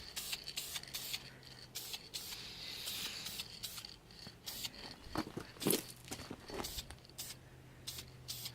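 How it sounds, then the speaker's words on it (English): Wheel paint sprayed from an aerosol can as a light mist coat onto a degreased Holley carburetor, coming in several short hissing bursts with quiet handling clatter between them, close and fairly faint. "So let's go ahead and spray the first bit of spray."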